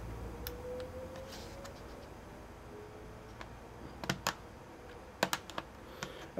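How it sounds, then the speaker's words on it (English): Ribbon cable on a Vaio laptop being pressed onto a circuit board, producing scattered small plastic clicks and ticks over a steady low hum, close and fairly quiet, with a few sharper snaps near the end. "I'm just attaching this ribbon cable to another circuit board like it originally was."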